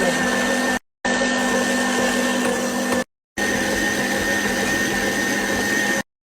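An electric mixer kneads dough until it pulls away from the bowl sides, a loud, steady motor whir running continuously, briefly cut off twice.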